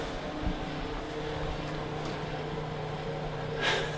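An old diesel engine in a Volkswagen MK1 idles steadily with a low, even rumble, close and moderately loud, and no one talks over it.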